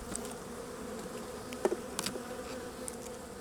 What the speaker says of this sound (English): I'm going to shake as many bees as I can into the box